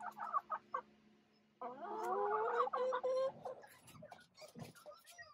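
Chickens in a coop cluck close by in short bursts, then a longer drawn-out call, followed by scattered softer clucks.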